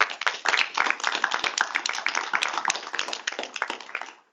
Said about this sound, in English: that is worth an applause